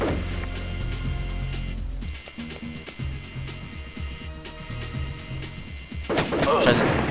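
Gunfire and heavy booming blasts from the video game Crusader: No Remorse crack out in repeated bursts, with deep thuds under rapid shots and a loud explosion near the end.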